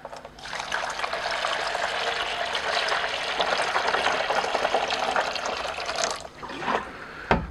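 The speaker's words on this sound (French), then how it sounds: "Le tout couronné par 3 litres d'eau." A steady, rushing pour of water, three litres, into a basin holding measured mushroom-growing ingredients and fungicide, loud and close for about six seconds before tapering off, with no talking.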